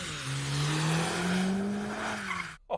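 A Mercedes-AMG car drifting sideways, its tires squealing in a long sustained howl that wavers in pitch, then cutting off abruptly.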